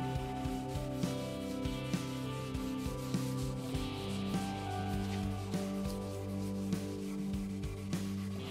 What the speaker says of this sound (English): Let the steel wool do the work.